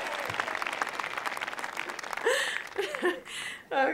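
Audience applause at a university commencement ceremony, a dense even patter of clapping through most of the stretch, with a speaker's voice breaking in over it toward the end.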